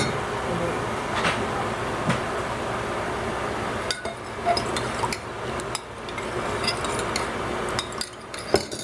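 Lemon sauce, white vinegar and sesame oil get mixed in a bowl, producing soft scraping stirs and light clinks of utensil on dish, close and moderately quiet, with a few sharper taps.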